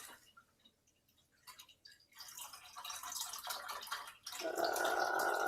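Water is poured into a large blue pitcher, starting with scattered drips and trickles, then rising into a louder, steady stream filling the container near the end.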